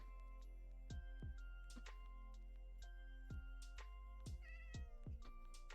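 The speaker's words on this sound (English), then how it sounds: "I hear a cat." Cat meows in Minecraft, several short mewing calls spread across the stretch, moderately loud over a steady game background with clicks and tones.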